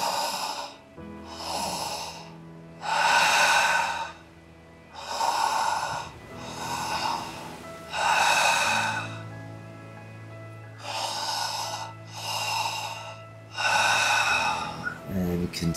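Slow, deep breaths drawn in and pushed out in an even rhythm, about eight long whooshing cycles, close and fairly quiet over a soft sustained musical drone during a guided meditation.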